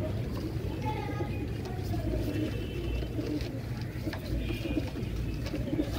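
Pigeons of a fancy breed kept in a loft coo softly and repeatedly, a low throaty murmur layered among faint chirps and background hum, close but quiet.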